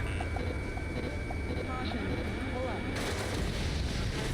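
Howitzer artillery fire in Ace Combat 7 rumbles as a low, continuous barrage, with a heavier burst near the end, mixed with jet engine drone, radio chatter and game music.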